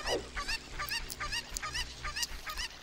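Cucco chickens in the Zelda Ocarina of Time Master Quest video game give a series of short, repeated squawking clucks in an irregular rhythm over a steady low game background hum.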